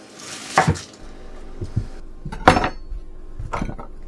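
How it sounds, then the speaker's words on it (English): A knife slices through a small to medium onion on a cutting board, giving a few distinct sharp chops spaced about a second apart, close and clear with no talk. "Now we need a small to medium onion. Just slice that up."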